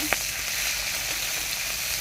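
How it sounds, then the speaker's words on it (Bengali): Fish heads frying in a pan with onion and green chili give a steady broadband sizzle with one brief clink near the start, continuous and fairly close. "এদিকে মাছের মাথা ভাজা হচ্ছে। পেঁয়াজ কাঁচা লঙ্কা দেওয়া হয়ে গেছে, এবারে নাড়বো।"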